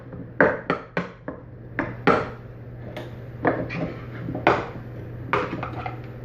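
A fork scraping and tapping through cooked rice in a pan for quick chicken curry, with a series of sharp metallic clinks and scrapes in an irregular rhythm, close and fairly loud, with no talking.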